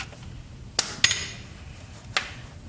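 Three sharp metallic taps ring out against quiet background as a piston is knocked upward inside a 1974 Ford Pinto engine, the first two close together and the third after a pause.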